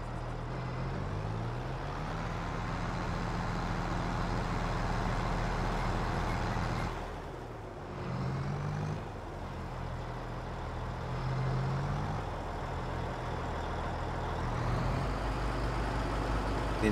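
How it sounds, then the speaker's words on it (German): In the Landwirtschafts-Simulator 22 farming game, a tractor engine runs steadily with a low, continuous drone that dips briefly near the middle and then resumes. "Motor starten. Einmal selber fahren."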